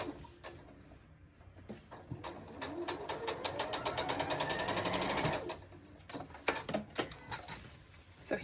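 A domestic sewing machine stitches a quilt block, its needle chattering in quick rhythmic bursts that swell into a steady, louder run and then break into short spurts, with no talking.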